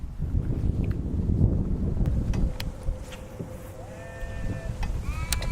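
Goats bleating on a farm, several calls rising over steady wind buffeting near the end, close and fairly loud, with no talk.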